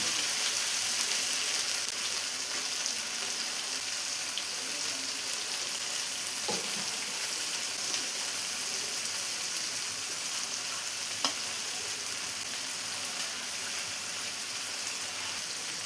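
Chicken pieces for Afghani chicken fry in a pan with a steady, dense sizzle and crackle, moderately near, with a couple of brief pops and no talking.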